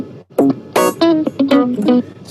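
Clavinet and electric guitar play together from an analog recording session, the clav filling gaps between the guitar's rhythmic chords, loud, close and punchy, with short bright plucked stabs in a funky pattern.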